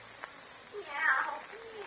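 A cat in a 1950s radio play gives one short meow behind an apartment closet door, fairly close and alone, with no one speaking over it.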